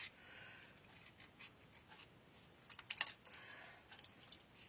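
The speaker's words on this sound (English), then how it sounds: "So I'm just going to fussy cut this one across." Scissors fussy cut paper for a watercolor melon painting, giving faint, small crisp snips with a brief cluster near the middle over quiet background hiss.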